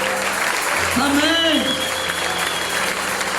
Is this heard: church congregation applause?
yes